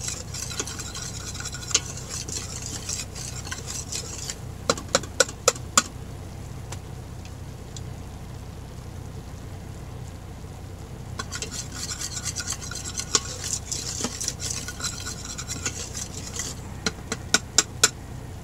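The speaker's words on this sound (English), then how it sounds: "Just let it set there, get nice and bubbly, and give it a little stir." A roux bubbling quietly in a pot on the stove, with scraping and rasping stirring strokes in two longer bursts and a few sharp clicks of the utensil against the pot, close and fairly soft, no talking.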